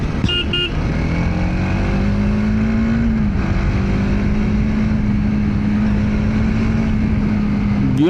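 TVS Apache RTX 300 motorcycle riding steadily with a loud, continuous engine drone that holds a near-constant pitch, dips briefly and climbs again as it accelerates, with strong wind rush throughout and no talking.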